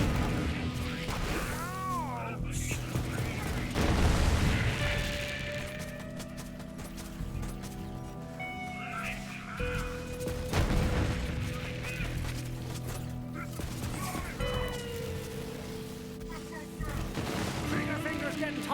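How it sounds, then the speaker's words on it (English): Rapid gunfire and radiation explosions in Borderlands 3 clatter continuously, layered with electronic effects and a voice talking over the action. "Maybe I can hit some of them with the big radiation explosion."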